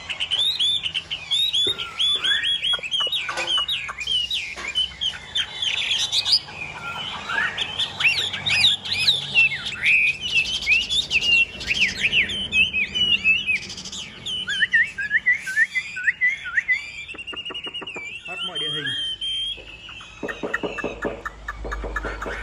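A caged hwamei songbird sings loudly and close, with varied whistled phrases, chirps and trills pouring out almost continuously, broken by short pauses and some faint rustling.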